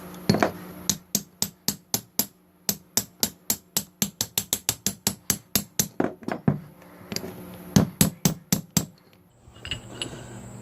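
A big chisel is hammered repeatedly on a 2004 Mercedes C320 4Matic during front wheel bearing work, with dozens of sharp metallic strikes in a fast, steady rhythm, close and loud, then a short pause and a few final blows.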